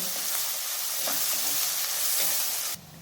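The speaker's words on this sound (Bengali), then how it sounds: "এরপর আমি হালকা লাল লাল করে ভেজে নেব" Chopped onions, two large ones, fry in a pan in a steady, dense sizzle with a few scrapes of stirring. The sound stays loud and close, then drops sharply near the end.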